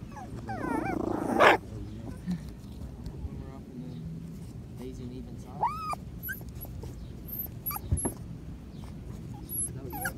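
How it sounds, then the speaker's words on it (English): Patterdale terrier puppies growl and whimper at each other, a busy burst of yips and low growls early on, then softer scuffling with occasional squeaks; a person speaks nearby. "Growling at each other."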